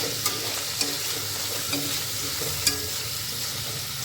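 Chicken frying on a low flame sizzles continuously while being tossed, with a handful of sharp utensil clicks and clatters scattered over the steady close hiss.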